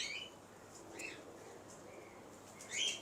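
Pigeons in a breeder's loft, including a Lalpuri bird, give a few faint, high chirps and calls spaced over a soft hiss, with the last call slightly louder. A voice murmurs quietly in the background.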